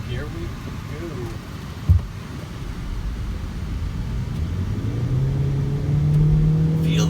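A Ford Galaxie or Ford C-Max accelerates hard in a timed run, its engine note rising as the speed builds, heard from inside the car over steady road roar.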